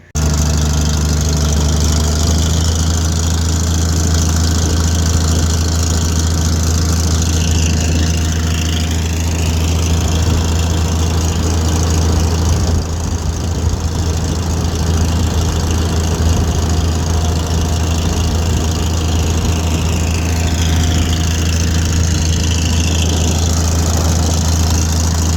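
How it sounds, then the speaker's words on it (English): A steady, loud International Harvester IH 806 farm tractor engine running continuously at close range in cold weather, a deep droning rumble with a faint rising and falling tone, with no one talking. "I'll try to get a little more video of the tractor working."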